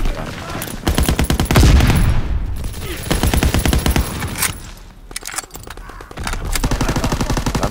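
Loud, rapid automatic gunfire from a World War II shooter video game, rattling in fast repeated bursts that barely pause across the stretch.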